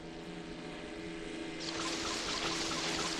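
A propeller plane in the game Brew Barons gives a steady droning engine tone with a constant hum, swelling louder and brighter partway through as the craft speeds up; no talking.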